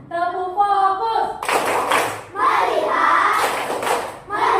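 Primary school class of fourth-graders performing a rhythmic group clap routine, a short chanted count giving way to bursts of loud unison clapping from the children, with voices mixed in.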